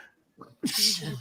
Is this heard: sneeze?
yes